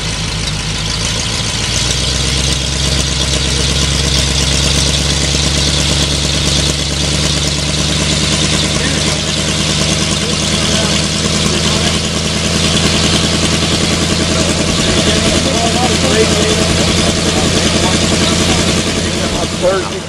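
An engine runs with its mufflers removed, giving a loud, steady, unmuffled idle with a deep throb that holds unchanged throughout.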